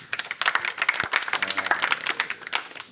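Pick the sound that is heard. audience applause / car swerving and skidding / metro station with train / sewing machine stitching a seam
audience applause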